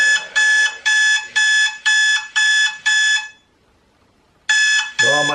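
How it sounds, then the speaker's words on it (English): Loud electronic alarm clock ringing in rapid repeated bursts, seven evenly spaced beeping pulses, a pause of near silence, then the ringing resumes; no talk, up close and piercing. "Why do people use this as an alarm clock?"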